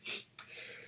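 One quick, faint sneeze in a quiet room during a talk show: a sharp breathy burst followed by a brief second catch, all over in under a second.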